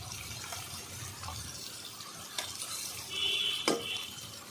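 Ginger, garlic, cumin and onion pastes being mixed in a pan for a jackfruit and prawn curry: soft scraping and stirring over a low sizzle, with a few utensil knocks and a brief clatter near the end.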